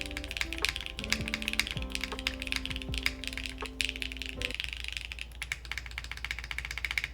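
Rapid, steady typing on a Quantum60 mechanical keyboard fitted with PBT keycaps and a CEM PCB, a dense close clatter of keystrokes throughout, with a low background tone in the first half.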